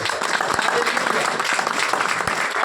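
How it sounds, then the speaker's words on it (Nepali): Church congregation clapping hard at an anniversary sermon service, a dense continuous wash of applause from a large crowd lasting the whole stretch, with no voices over it. "कियोसाकीको लागि एकपल्ट जोरदार ताली बजाइदिनु।"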